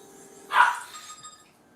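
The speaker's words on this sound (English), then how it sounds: "Sorry about the dog barking in the background." A dog barks once somewhere in the background, a single short, moderately loud bark rising from a quiet room and fading quickly.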